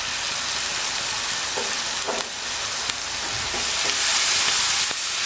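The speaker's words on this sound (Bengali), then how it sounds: "মধ্যে দিয়ে দিচ্ছি সামান্য একটু পানি" Water poured into ground spices frying in a pan over low heat, for a rui fish curry with pineapple, sets off a steady loud sizzle and hiss with a few soft stirring knocks, rising toward the end.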